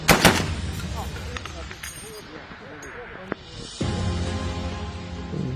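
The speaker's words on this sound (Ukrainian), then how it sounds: "Постріл!" A sharp, loud long-range sniper rifle shot cracks at the start and echoes away, followed by quieter ambient noise and a faint voice.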